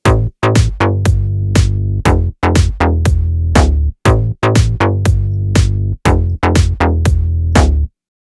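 An EQ'd bass and snare play together in a loud, punchy loop, deep bass notes pulsing under sharp, regular snare hits for about eight seconds before stopping cleanly.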